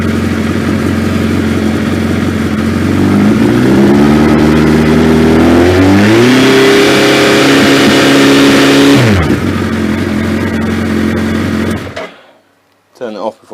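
A Suzuki GSX 1300R Hayabusa with a starting problem idles close by, then is revved to a higher, rising pitch that holds steady for a few seconds before dropping back and cutting off into quiet.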